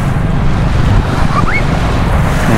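Sea surf washes steadily onto a white-sand beach at Masasa, Tingloy, Batangas, a constant broad roar with wind buffeting the microphone and no talk.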